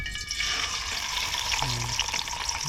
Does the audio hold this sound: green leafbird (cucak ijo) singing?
no